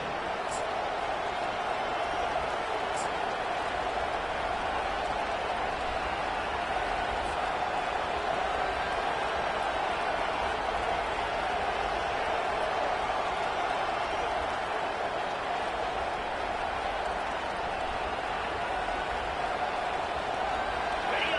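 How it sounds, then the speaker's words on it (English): Steady stadium crowd roar from a College Football 25 game, a continuous even wash of noise with no breaks, moderately loud and constant throughout. "This crowd bringing the energy and noise early."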